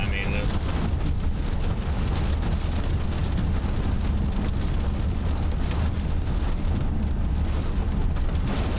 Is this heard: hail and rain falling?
yes